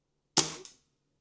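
A single sharp shot from an Air Arms TX200 .177 air rifle fired at a paper target, a brief crisp crack with a short double-edged tail, then quiet.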